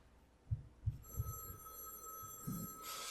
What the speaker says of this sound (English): Phone's ringing again.